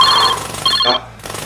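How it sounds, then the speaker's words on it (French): A telephone rings in a Bordeaux board game shop, two loud electronic ring bursts rising over the steady rattle of a nearby jackhammer. "Ah, téléphone."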